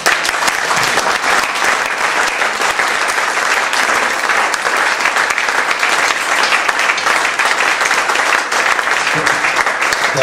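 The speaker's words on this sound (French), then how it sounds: "On va vous remercier et vous applaudir" An audience at a talk gives Noël Pasquier sustained applause, dense, close and loud clapping from many hands that continues evenly without pause.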